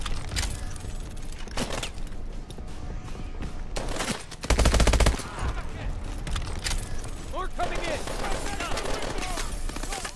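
Video game gunfire from Call of Duty Advanced Warfare: dense, sustained bursts of automatic shots with a few louder blasts, with a voice talking over the fighting.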